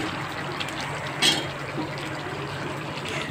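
Dosa batter poured onto a hot pan in a home kitchen, a steady sizzling hiss with one brief louder splash, set against quiet room noise.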